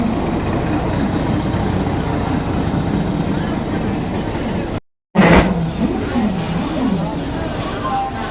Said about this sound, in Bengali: এটাই হলো 12321 হাওড়া মুম্বাই মেল। 8 নম্বর প্ল্যাটফর্মে প্রবেশ করছে।